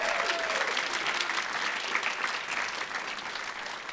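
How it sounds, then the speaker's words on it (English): Audience applause at a high school choral concert, a dense, steady wash of clapping from a crowd heard at moderate distance, continuing throughout without a break. "So students, give them a round of applause."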